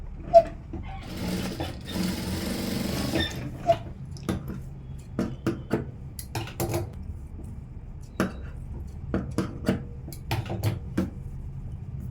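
A sewing machine stitches a princess-cut blouse with a falsion piece, a dense whirring burst early on, then scattered sharp clicks and short mechanical runs, close and moderately quiet, with no talking.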